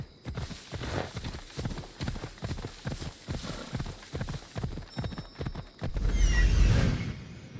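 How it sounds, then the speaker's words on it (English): A horse in the video game Assassin's Creed Odyssey walks in a steady clip-clop of hooves, close and clear, ending in a louder rustling burst with a faint whinny-like tone. "Looks like a sturdy horse."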